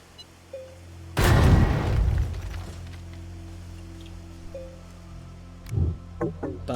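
An explosion in the space exploration game Astroneer: one loud, deep boom with a rumbling tail that fades over about a second, followed later by quieter popping and rustling debris sounds.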